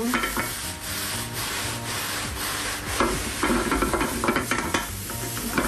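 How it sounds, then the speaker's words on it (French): A spoon or whisk stirs cream into clafoutis batter to smooth out lumps, producing steady, close scraping and swishing against the bowl that continues throughout with no talking. "J'y rajoute un peu de crème, bien remuer pour éviter les petits grumeaux."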